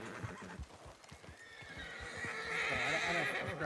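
In a video game, a horse whinnies over rhythmic clip-clop hoofbeats at moderate volume, with a noisy background bed throughout.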